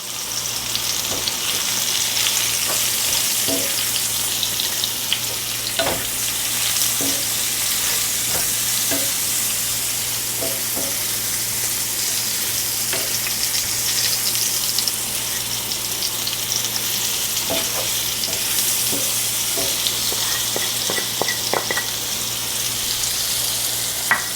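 Zucchini stir fry with spices sizzling steadily in a pan, a continuous loud hiss broken by occasional stirring clatters and scrapes, with no voices.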